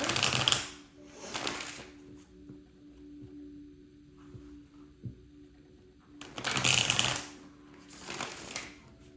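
Tarot cards get shuffled in two quick riffling bursts separated by a quiet pause, close and crisp, with no speech.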